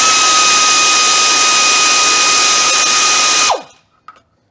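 A power tool whirs steadily and loudly at the transmission oil pan bolts of a 1999 Dodge Ram 1500, a continuous whine that winds down and stops abruptly, leaving near silence with a couple of faint clicks.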